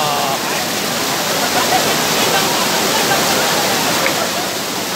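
A waterfall at Bushi Dam pours with a loud, constant roar of rushing water, a dense, unbroken wash of sound that stays steady and close the whole time.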